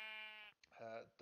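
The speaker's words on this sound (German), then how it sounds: "die Schafe sind in ihren Pförchen eingezwängt" Sheep in Minecraft penned in small enclosures on a wool farm, bleating in drawn-out wavering calls, two or three bleats in quick succession, close and clear.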